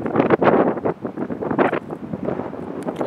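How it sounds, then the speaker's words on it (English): Gusty outdoor wind buffets the microphone on a hot 97-degree day beside a home heat pump, a loud, continuous rushing roar that surges and eases in uneven waves with no talk. "And it's windy, of course."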